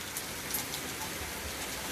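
Steady rain falls on a rainy day, an even hiss of drops on surfaces that holds unbroken and fairly loud.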